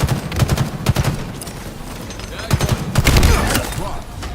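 Rapid bursts of video game gunfire in a competitive ball-possession shooter, loud, close and repeated, with heavier volleys near the end and voices talking underneath.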